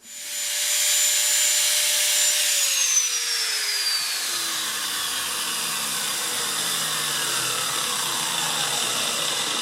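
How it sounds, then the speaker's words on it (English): A high-pitched power tool whines loudly through aluminum on an expandable garden hose fitting, its pitch sliding down as it bogs into the cut, then grinds on steadily with a rough, hissing edge. "But since I have the power tool, I'm going to use it."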